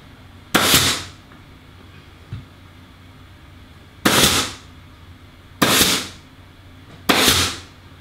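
Upholstery staple gun firing staples into a wooden chair frame, four sharp loud bangs with brief decaying tails, irregularly spaced, plus one faint softer knock, alone with no talk.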